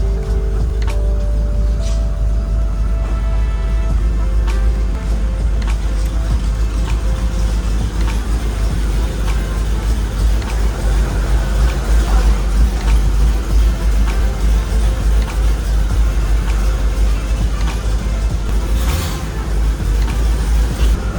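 A 2003 Land Rover Discovery 2, rough-running, smoky and prone to overheating, rumbles steadily through a long stretch of driving, its low engine and road noise loud and continuous with no talk.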